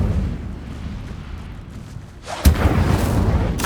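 Incendio fire spell cast in Hogwarts Legacy, a sudden loud whooshing burst that erupts after a low rumbling stretch, followed by a sustained roaring crackle and a second flare at the end.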